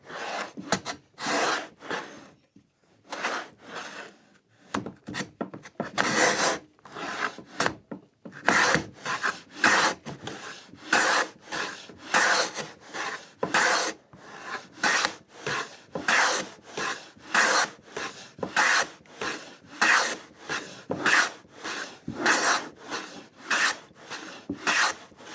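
A hand plane takes repeated strokes across wooden end grain on a shooting board, close rasping swishes in a steady back-and-forth rhythm of about twenty passes, with brief pauses and no talking.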